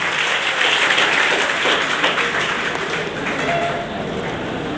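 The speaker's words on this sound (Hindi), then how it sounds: "तालियां बजती रहनी चाहिए" Sustained audience applause at a NEET-2022 student felicitation ceremony, a dense continuous patter of many hands at an even level throughout, with little else heard.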